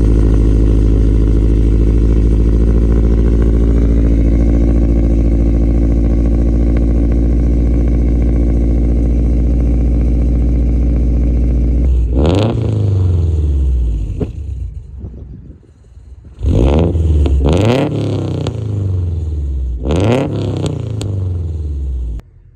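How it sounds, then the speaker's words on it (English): A Subaru Forester XT with a near straight-pipe 3-inch exhaust idles loudly and steadily, then barks through several sharp, deep revs in quick bursts. "Today we are getting a full 3-inch exhaust for our Subaru XT"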